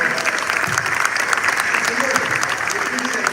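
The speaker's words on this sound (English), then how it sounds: "Let's give a round of applause" Steady, loud audience applause at a Los Angeles facility dedication event, a continuous dense wash of clapping with faint voices mixed underneath.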